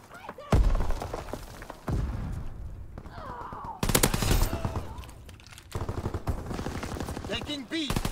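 Gunfire in Call of Duty: several bursts of rapid automatic shots, loud and close, separated by brief lulls, with scattered impacts and a voice talking quietly between them.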